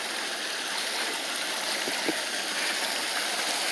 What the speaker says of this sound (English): we have a waterfall